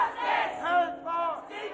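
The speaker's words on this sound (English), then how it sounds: "A huge crowd gathered outside the hearing, hoping to get a chance to see them take the stands." A huge crowd gathered outside a public inquest hearing in the UK shouts and chants together, a loud, swelling mass of voices rising and falling in waves.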